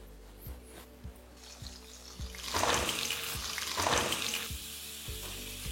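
Small peeled potatoes, about a kilogram, fry in oil in a pan, with a steady close sizzle that swells into louder crackling bursts partway through, and no voices.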